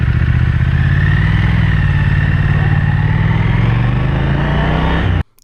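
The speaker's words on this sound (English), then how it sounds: "Crack open the throttle and flick your way up through the very slick 6-speed gearbox and this bike will take off like a scalded cat." A Triumph Thruxton R motorcycle with a six-speed gearbox pulling hard under steady acceleration, a loud continuous engine drone with rising pitch heard up close, cutting off sharply at the end.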